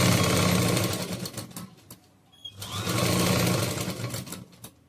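A sewing machine stitches churidar fabric cut from a saree with a loud, close, rapid mechanical whir. It runs in two sustained bursts separated by a short pause, with no voices.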